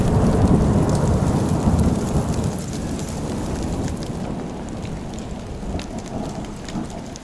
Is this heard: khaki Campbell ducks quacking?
no